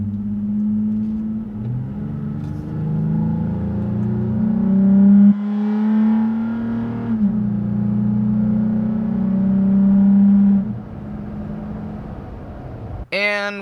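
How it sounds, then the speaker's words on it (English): Toyota Tacoma engine fitted with an S&B cold air intake growls steadily from inside the cab while driving, rising as it builds revs, with a brief sharp sound at the very end. "So the noise, good growl at like 1500 RPM, and then you can really hear it like start to come on around 2000."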